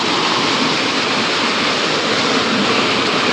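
Loud rushing water at night in Konkan during crab catching, a dense, steady roar of flowing water filling the whole clip at close range.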